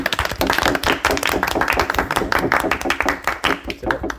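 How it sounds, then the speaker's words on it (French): Studio audience clapping on a French television show, a dense, steady patter of many hands filling the stretch, with talk mixed in underneath. "Pierre, Noé et Gaspard d'un côté, on les applaudit"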